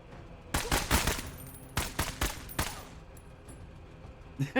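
Gunfire in the tactical game MENACE comes in a few sharp, loud automatic bursts, spaced by short pauses, then fades to quieter scattered shots over a low ambient hum.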